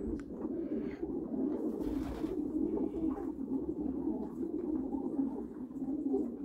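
Young homing pigeons coo continuously at the loft, a dense, low, rolling murmur of many birds close by, with faint rustling and no voices.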